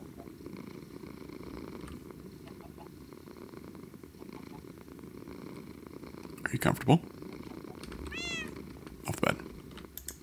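Minecraft cat purring softly and steadily, then meowing a couple of times near the end, with someone talking quietly over it.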